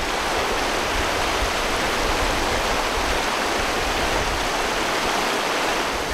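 A Yosemite waterfall roars as a constant, dense rush of falling water, steady and loud without pauses or voices.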